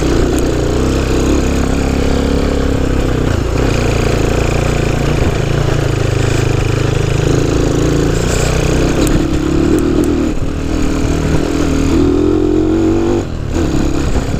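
A Honda C90 motorcycle engine running steadily after a carburettor adjustment, a close, continuous buzzing putter with small shifts in pitch, heard alone without talk.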